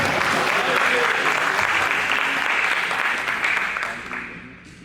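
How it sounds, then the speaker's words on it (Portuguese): An audience at a pastor's church service claps in sustained, dense applause that holds steady for a few seconds and then gradually fades. "Palmas para ele. Palmas para ele."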